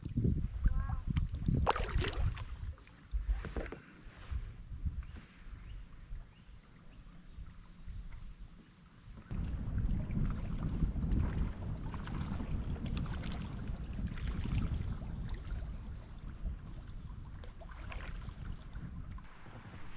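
Kayak paddling on Deep River in North Carolina: steady water swishes and splashes from the paddle strokes against a constant wind and water background, close to the microphone, with no talk.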